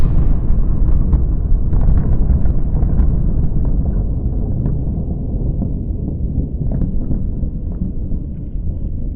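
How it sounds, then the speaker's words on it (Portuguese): The 49-kiloton Yoke nuclear test detonation produces a sustained, heavy low rumble that roars continuously with crackling pops scattered through it, loud and unbroken, gradually easing slightly. "a ilha Almon quase desapareceu depois que a bomba Yoke de 49 quilotons foi detonada"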